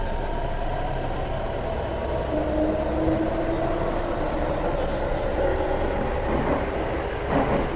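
A Delhi Metro train running on its line, a loud steady rumble of wheels on rails with faint squealing tones and light rhythmic clatter, heard from nearby throughout.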